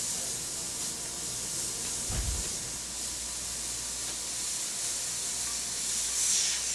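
An airbrush hisses in a steady, continuous spray of paint onto a black shirt, with a faint, even airy tone and no talking.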